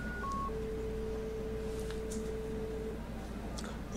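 A landline phone keypad sends a rapid run of short dial tones, then one long sustained tone, all fairly clear over a low steady hum.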